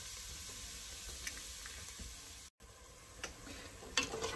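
Spiced pulled jackfruit cooks in a pan, giving a steady, fairly quiet sizzle with light stirring scrapes and a brief gap partway through.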